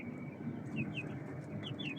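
Faint, high chirps from 25-day-old German-line Australorp chicks come in several short peeps over a low, continuous room hum, with no voices.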